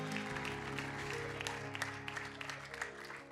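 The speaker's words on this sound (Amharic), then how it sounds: "አጨብጭቡ ለጌታ" A church congregation clapping for the Lord, sustained applause from many hands with a hum of music or voices beneath, fairly faint and continuous.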